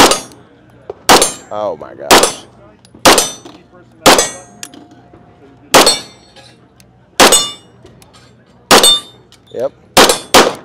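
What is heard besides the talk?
30 Super Carry pistol shots ringing steel targets, Nighthawk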